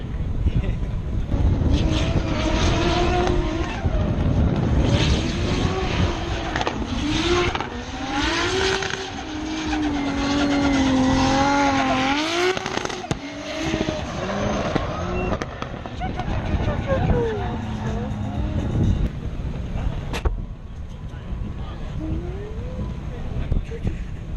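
A hood-off drift car fitted with coilovers revs hard at a Formula Drift pro event in Orlando, a loud, raw engine note rising and falling with other cars in the background while people talk over it.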